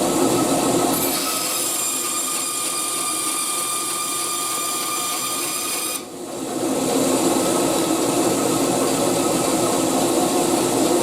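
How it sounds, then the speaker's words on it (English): A bandsaw cuts through wood for a horn speaker restoration, a continuous close, rasping whine with steady tone, briefly easing near the middle before the cutting noise resumes just as loud. "I'm going to take the bandsaw and I'm going to cut that"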